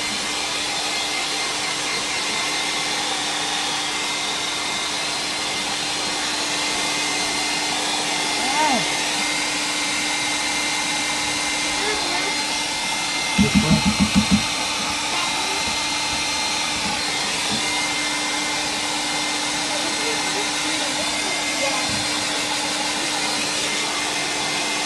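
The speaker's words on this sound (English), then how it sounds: "I just run the hair dryer for a little while." A hair dryer runs steadily as a loud, even whoosh with a constant motor hum throughout, briefly joined by a short rattling sound partway through.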